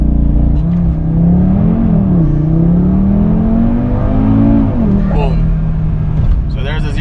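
A 2019 Audi RS3 launching hard from 0 to 60 on wet asphalt, its engine revving and climbing through rising tones with brief shift dips, loud and close, with a voice speaking over it.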